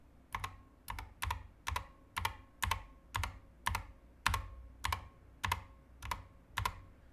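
A Corsair mechanical keyboard is typed on in an even rhythm of about a dozen distinct keystrokes. Each press carries a faint springy ping, heard close up in a quiet room.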